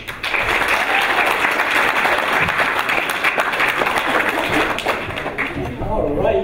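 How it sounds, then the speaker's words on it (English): A student comedy society audience at a Comic Relief show applauds a comedian being welcomed to the stage, with loud, sustained, dense clapping and some crowd voices throughout. "Please put your hands together and welcome to the stage, Umby Winters."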